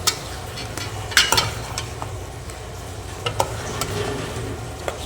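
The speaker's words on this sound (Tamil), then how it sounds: "ஸோ அப்பப்போ கிண்டி விட்டுக்கலாம்." A potato and chicken curry with turmeric is stirred in a pan, the spoon scraping in occasional sharp strokes over a steady low sizzle, close and moderately loud, with no talking.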